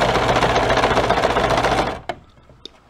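A sewing machine stitches fabric while resizing a ready-made garment, running with a close, rapid, steady mechanical chatter for about two seconds before stopping, followed by a couple of faint clicks.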